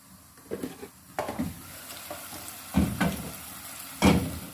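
Chicken browning in a pot for a spinach chicken curry, a steady sizzle of frying with a few stirring scrapes and clinks of a utensil against the pot, close by.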